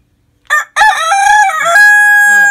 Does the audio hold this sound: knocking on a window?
no